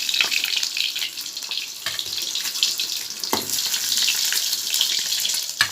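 Boiled potatoes coated in salt and turmeric frying lightly in hot oil, a continuous bright sizzle and crackle with small spits, close and fairly loud, with no talking.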